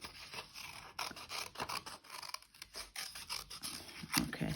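Scissors cutting paper for card making, a series of close, quiet snipping and scraping strokes in an uneven rhythm.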